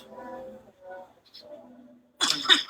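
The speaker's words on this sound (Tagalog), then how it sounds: "Oh my God, ang pangit ng ubo" A short, harsh cough bursts out near the end, following a stretch of soft talking in a cozy livestream setting.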